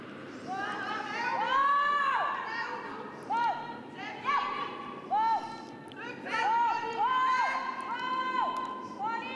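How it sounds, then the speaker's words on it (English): A crowd at the final day of a ladies' international curling tournament erupts in rising, excited exclamations and cheers as a stone slips past, loud and sustained in waves, with a commentator's voice underneath. "you can hear the reaction of the crowd as that one just slipped past"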